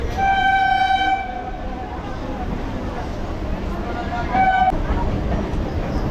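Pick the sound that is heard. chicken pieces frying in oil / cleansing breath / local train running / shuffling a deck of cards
local train running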